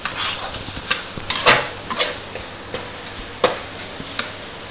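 Sambal being stirred as it fries in oil in a Peranakan Nyonya kitchen: a close, loud scraping and clattering of a utensil against the pan in irregular strokes over a low sizzle.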